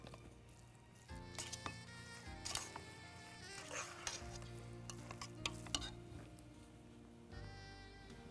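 Rice being stirred in a hot pan on a stove, with scraping and clinking of the spoon over a steady sizzling hiss, under faint background music.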